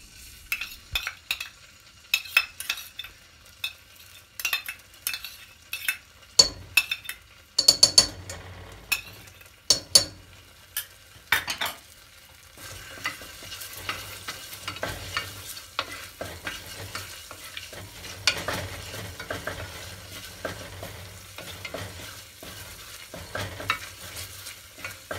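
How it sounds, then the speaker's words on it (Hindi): Ginger garlic paste is fried in olive oil in a cooker for mutton curry: repeated scraping stirs and clinks of a spoon against the pot over a soft, rising sizzle that becomes steadier in the second half. "जिंजर गार्लिक को हम इसी ऑयल में डालेंगे और अच्छी तरह भुनेंगे"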